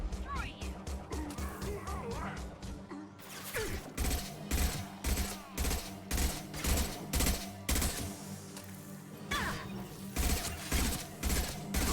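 High-impact shots from a Mass Effect 2 weapon ring out as a steady run of loud, evenly spaced bangs. Battle noise and character voices sound between them.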